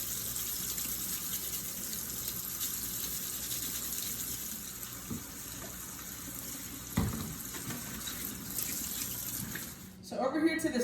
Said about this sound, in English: I wash my vegetables with this fruit and vegetable wash